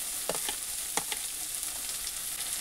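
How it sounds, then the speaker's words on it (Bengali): Chopped vegetables with salt, minced garlic, grated ginger and diced capsicum frying in a pan, constant soft sizzle broken by a few quick stirring scrapes, close and alone. "এবার আমি এই সবজিগুলো ভালো করে কষিয়ে নিব।"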